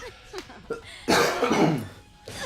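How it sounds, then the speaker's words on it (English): A single loud, harsh cough bursts out after some quieter throat and breath noises, close to the microphone, followed by a brief trailing exhale during a gaming commentary session. "That was a real cough."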